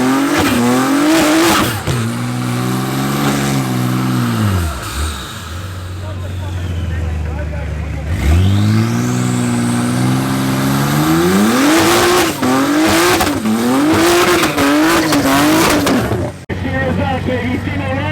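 Two drag race cars in the rear-wheel and four-wheel drive class, both low 9-second cars, launch at a UDL championship round at Midvaal Raceway: loud engine revs rise and fall through gear changes, with tire noise and commentary over the top.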